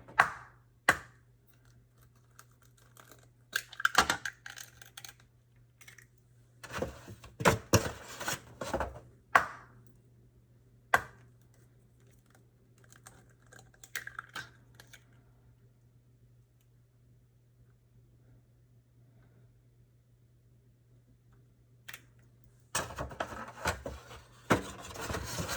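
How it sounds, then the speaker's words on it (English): A knife chops an onion for breakfast eggs, giving scattered, faint taps and cuts in short clusters over a low background hum, with a long near-silent stretch before a final flurry of cutting. "I'm finna cut up me some of this onion."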